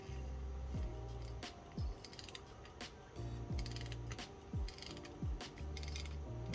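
Vintage fishing reel spun by hand, its anti-reverse ratchet giving rapid, close, crisp clicking in several short bursts separated by brief pauses, with a squeaky sliding tone at each start; no talking.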